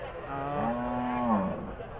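A single drawn-out moo from a cow at a cattle market selling Holstein Friesian cows, fairly faint and close, rising and falling over about two seconds.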